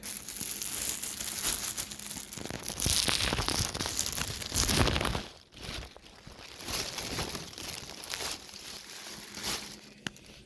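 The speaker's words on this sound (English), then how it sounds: "we'll get it taken out of the plastic here and see what it looks like" A new Callaway Premium Cart golf bag from Costco is unwrapped from its plastic packaging, giving steady loud crinkling and tearing of plastic that eases off partway through, then resumes in softer rustles.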